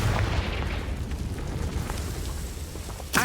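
A Confringo spell explosion in the video game Hogwarts Legacy gives a deep, rolling boom that rumbles on for several seconds, with a sharper burst just at the end.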